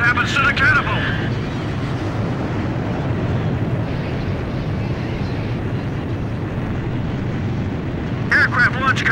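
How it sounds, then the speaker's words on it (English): A jet launching off a carrier catapult in Ace Combat 5, a steady loud roaring rush of engine and wind throughout, with brief radio-like voice chatter at the start and end. "Aircraft launch confirmed."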